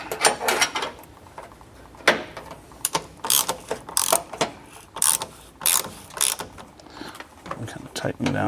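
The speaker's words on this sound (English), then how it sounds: "I'm kind of tightening down evenly so I get it." Ratchet wrench tightening the 9/16 SAE mounting bolts of an orange bench vise in a garage, bursts of quick clicking pawl strokes close up, stopping and restarting irregularly, with faint bits of voice between.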